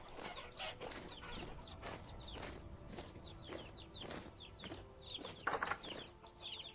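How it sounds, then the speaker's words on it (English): Chickens in the Vintage Story video game cluck and chirp repeatedly in a busy, steady chorus over a low background bed, with no speech. "Hello, chickens."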